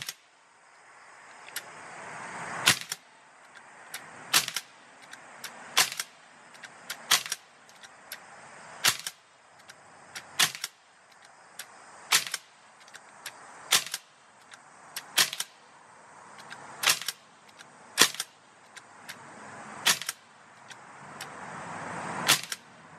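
Sig MCX air rifle fired at a makeshift target, fourteen sharp cracks spaced a second or two apart in a steady rhythm, close and loud with no talking.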